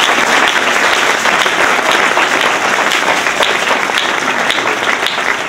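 A church congregation claps and cheers in a dense, sustained wave of applause, loud and close, filling the room with no pause and no clear speech.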